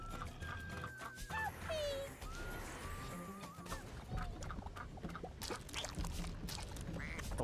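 Duck quacks from the video game Rayman Legends come as squeaky, wavering calls over busy game sounds, with a person talking now and then.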